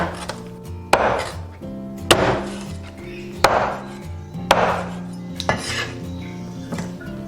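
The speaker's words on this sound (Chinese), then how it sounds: "鱼骨这些斩成小块" A cleaver chops pomfret fish bones into small pieces on a board, with five or six loud, close, sharp chops spaced about a second apart and a few lighter knocks between them, no voices.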